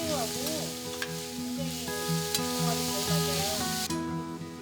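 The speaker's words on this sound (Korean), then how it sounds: "눈썹 모양으로 썬 호박은 간장으로 살짝 양념한 다진 쇠고기에 새우젓을 넣어 볶아줍니다." Zucchini sliced into eyebrow-shaped pieces stir-fries with soy-seasoned minced beef and salted shrimp, a steady sizzle under repeated stirring scrapes, with faint background music running throughout.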